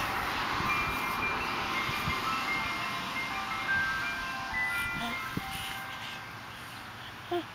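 An ice cream truck's tinkling jingle plays faintly from a distance, thin melodic notes drifting over steady outdoor background noise with no one speaking.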